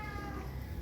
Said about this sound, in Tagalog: Ba't nag-iingay yung pusa ng ganyan kuya?